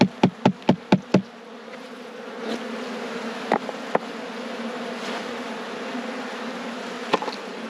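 Honey bees buzz during a beehive inspection: six quick knocks of frames being shaken open the sound, then a dense, steady hum of bees continues with a few scattered clicks.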